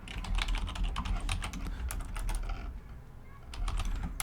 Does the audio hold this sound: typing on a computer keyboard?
yes